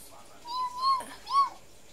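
Two soft, rising-and-falling meows from a cat, fairly faint against a quiet background.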